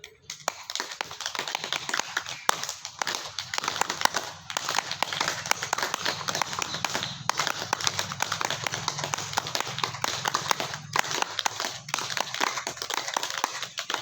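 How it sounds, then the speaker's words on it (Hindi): Participants clap their hands loudly at the end of a yoga session, a sustained patter of many hands that keeps up a dense, brisk rhythm for the whole stretch. "जोर से ताली बजाइए"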